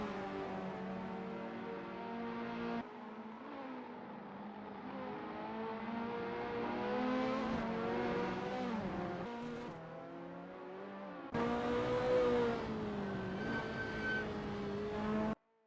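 Race cars warming up at Donington Park National circuit, with Ferrari F40s in a racing game, drone steadily with rising and falling engine revs and gear shifts, loud and close, alone without talk.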